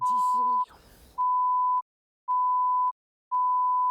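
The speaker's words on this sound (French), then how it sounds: "je vais demander à Max de le biper." A steady censor bleep, a pure high tone, cuts over a voice, then repeats as three more evenly spaced beeps separated by silence.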